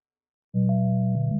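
Synthesized chirping tones from a VCV Rack modular patch generating ambient particle noise, sent through reverb: steady sustained pitched tones with a brief chirp, starting abruptly after half a second of silence and continuing to the end.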